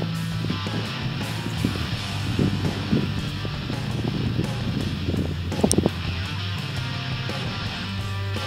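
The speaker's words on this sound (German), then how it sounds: "es wird aber auch nicht weniger windig" Wind blowing outdoors on a windy day during metal detecting, a steady broadband rush with buffeting against the microphone and some faint rustling, with no one talking.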